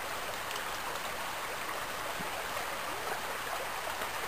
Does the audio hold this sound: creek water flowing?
yes